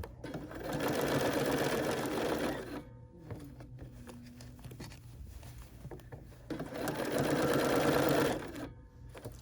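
A sewing machine runs in two sustained stitching bursts through fabric while basting up a stuffed bear, with a short pause of quiet handling between the runs.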